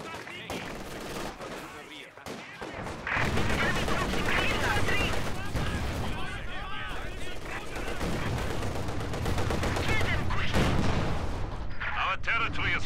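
Gunfire aimed at partisans in a Company of Heroes 2 battle, with dense, continuous bursts of rifle and machine-gun fire plus occasional heavier blasts, loud and close, mixed with shouted voices.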